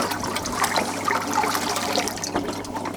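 Liquid kelp fertilizer pours steadily into water, a continuous close splashing and gurgling stream that runs for a few seconds with no voices.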